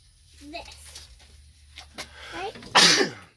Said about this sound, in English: Got me sneezing during the coronavirus.